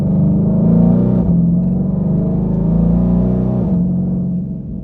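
Deep, sustained engine rumble from a twin-turbo 2020 Ford Mustang Shelby GT500 held on launch control while building boost, loud and close with slight pitch shifts, fading slightly at the end.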